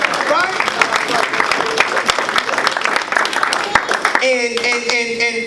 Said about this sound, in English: Hey, get that brother, man, a round of applause right there.